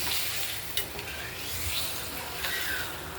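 Spice paste with turmeric sautéing in oil for a rohu fish curry, giving a steady soft sizzle with a few brief spoon rubs and scrapes against the pan, close and fairly quiet.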